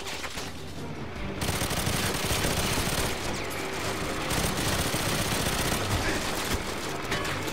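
Sustained automatic gunfire from a gun in GoldenEye 007 Reloaded, a dense, loud, continuous stream of shots with a short pause near the start, nothing else heard.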